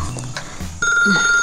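A telephone rings with a steady electronic tone that starts partway through, after some low thumping and background noise.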